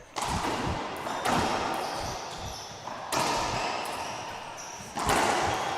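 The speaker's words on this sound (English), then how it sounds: "This is yet the longest rally we've seen." A racquetball rally at the IRF World Championship in San Antonio, with sharp ball strikes and echoing wall impacts every second or two inside a reverberant court, crowd murmur in the background.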